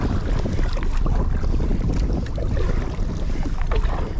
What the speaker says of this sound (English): Going right into the wind this way, so coming back will be a lot easier.